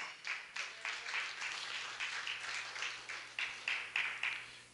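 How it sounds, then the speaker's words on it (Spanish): A church congregation claps hands for the Lord in steady, evenly spaced rhythmic claps, with no talking, moderately distant and fairly quiet, lasting several seconds. "Dale palmas al Señor."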